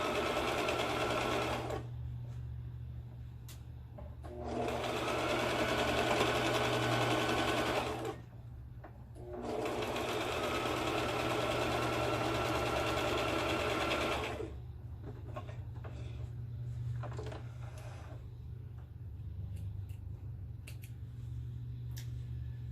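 A sewing machine stitches quilt block pieces in long, steady bursts of rapid mechanical whirring, pausing briefly between runs, close and clear over a low background hum.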